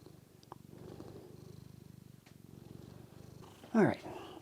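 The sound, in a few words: old cat purring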